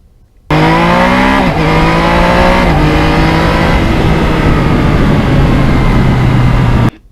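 A 2020 Yamaha MT-09 crossplane triple motorcycle accelerates hard on the road, its loud close engine note climbing through gears with quick shifts, wind rushing over a continuous growl.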